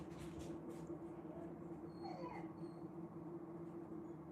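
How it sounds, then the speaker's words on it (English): A pet dog whimpers and yips in a room, faint and high-pitched, with short plaintive cries over a steady low electrical hum. "I hope you shut the door because my dog's just freaked out."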